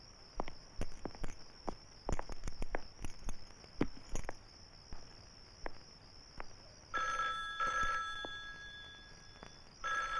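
A telephone rings in repeated electronic bursts, with scattered clicks and footstep-like taps throughout and a louder steady ringing tone toward the end.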